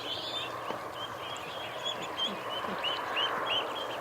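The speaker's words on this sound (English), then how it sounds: "Hello ducks! Oh, look at them all coming over." Ducks gathered in a backyard give repeated nasal quacks and honks, several birds calling close by in a steady scatter of short calls over low outdoor background noise.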